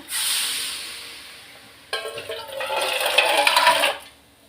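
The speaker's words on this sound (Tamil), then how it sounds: "தண்ணியை ஊற்றிட்டு இது கொஞ்சம் நல்லா கிளறி விடலாம்." Water poured into a pan of mango curry: a brief hiss at first, then a louder splashing, bubbling pour for about two seconds before it cuts off, close and without speech.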